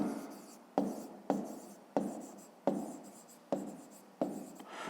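Pen strokes on paper during a fifth-grade math exercise, seven distinct bursts of scratchy writing, each starting sharply and fading, close and clear with no talking.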